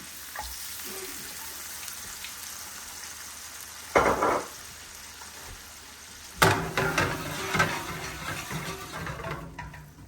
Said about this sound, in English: Let that boil for a minute, simmer for a minute.